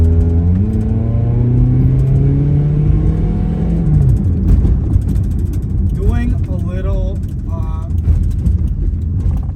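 A Toyota Corolla DX engine revs up with rising pitch, then drops off as the driver shifts, with steady road rumble underneath and a voice speaking briefly near the end.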